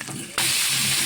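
Mustard greens hit hot oil in a wok with prawn heads and potato, setting off a sudden loud, broad hiss that jumps in at once and holds steady, rushing and sizzling with no voice over it.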